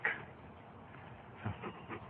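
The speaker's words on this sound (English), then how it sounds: "The dog's happy enough, though." A dog in a 1962 film scene gives a soft whimper at the start, then a few faint whines and snuffles follow quietly near the end.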